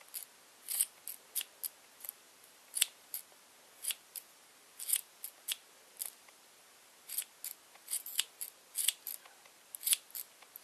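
Scissors snip through yarn to trim a pom pom: crisp, close cuts come in quick irregular bursts, with short quiet gaps between them and no talking.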